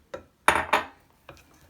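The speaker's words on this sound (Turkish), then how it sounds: "çırptığımız yumurta aklarını ıspatula yardımıyla katıp" A spatula scrapes and knocks against a bowl while whipped egg whites are folded in by hand for a sponge cake batter. There are four separate scrapes, the middle two loudest and closest.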